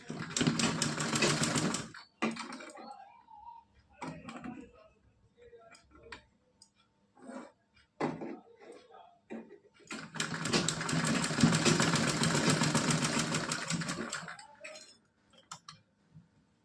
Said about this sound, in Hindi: यहाँ पे हमको 2 बार सिलाई लगा लेनी है।